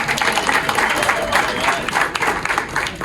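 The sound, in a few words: audience round of applause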